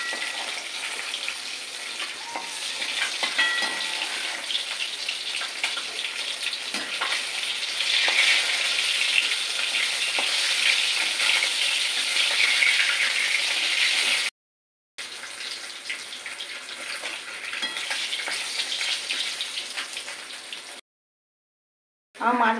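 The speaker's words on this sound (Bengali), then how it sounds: "একটু একটু লাল লাল করে ভেজে আমি তুলে নিচ্ছি" Pieces of katla fish fry in hot oil in a pan, giving a steady, continuous sizzle with occasional crackles and stirring. The sizzle cuts out briefly twice.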